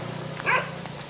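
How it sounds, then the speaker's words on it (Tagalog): A dog barks once on a hiking trail, a short, moderately loud yap standing out briefly over low steady background noise. "Ang dami pong aso dito."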